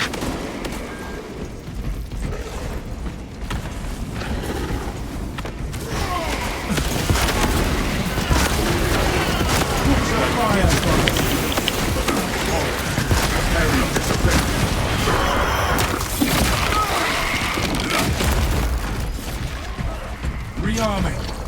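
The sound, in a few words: cannon fire in a Warhammer 40,000 video game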